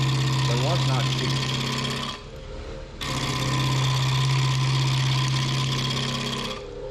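Wood lathe spinning a small maple bowl while a gouge chatters against it, a loud steady hum with a rough rattling edge, cutting out briefly before resuming close up.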